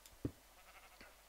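Brief sheep bleat from Minecraft, a single short call near the start followed by a fainter second one about a second later, otherwise quiet game background.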